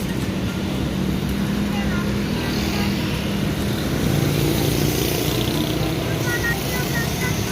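An Indah Kargo cargo truck passes on a busy Indonesian road, its steady engine rumble and tire roar filling the scene under continuous traffic noise, with a voice talking over it.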